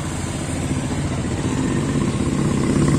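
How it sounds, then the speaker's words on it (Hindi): A motorcycle engine runs steadily at a university campus entrance, a loud, close, continuous rumble that rises slightly toward the end, with no talking. "तो ये हमारी बाइक है, अभी आगे हम इससे जाएंगे अंदर"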